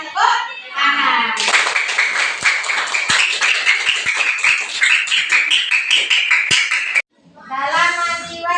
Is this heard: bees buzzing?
no